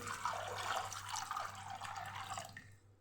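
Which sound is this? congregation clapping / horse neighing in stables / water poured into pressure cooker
water poured into pressure cooker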